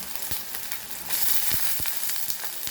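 Chopped onion fries in a pan for a traditional Goan stuffed silver pomfret, giving a continuous close sizzle broken by a few sharp stirring scrapes, with no one talking.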